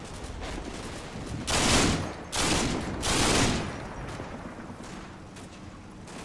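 Soldiers in Combat Mission keep up sustained rifle and machine-gun fire, with dense bursts swelling into three heavy volleys in the middle and scattered shots continuing around them at moderate distance.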